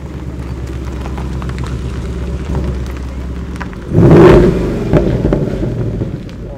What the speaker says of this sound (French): petite Mustang là, Bullitt, il vient de démarrer